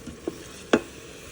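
Sausage cooking on the sauté setting of an Instant Pot gives a couple of brief scraping stirs and one sharper knock against the pot over a low background hiss.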